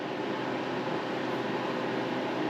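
A freeze dryer runs with a steady mechanical hum and broadband whirring noise at an even level, its motor and pump droning nearby.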